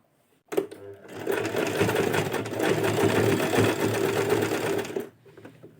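Overlock sewing machine stitching fabric, a loud rapid mechanical whirring that starts abruptly, runs steadily for several seconds up close and then stops.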